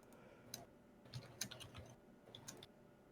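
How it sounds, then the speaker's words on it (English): Typing on a computer keyboard picked up by a sensitive new microphone during an online tabletop game session: scattered, fairly faint key clicks in irregular bursts, with no talk. "we can hear you typing"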